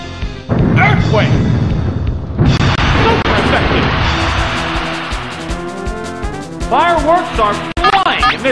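An Earthquake attack in the Pokemon Stadium video game rumbles as a loud, sustained crashing boom with rattling debris, fading gradually before sharper game effects and battle cues return.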